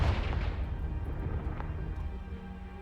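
A Confringo spell blast from the Hogwarts Legacy video game erupts as a deep, rumbling boom at the start, its low roar fading slowly with a brief crackle midway.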